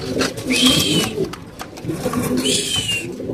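Racer pigeons coo in cages at a pigeon farm, low repeated throaty calls heard close over a busy background with a voice talking.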